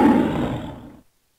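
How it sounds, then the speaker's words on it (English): A lion's roar, loud and rumbling, sustained for about a second before cutting off abruptly into silence. "Lion begins with L."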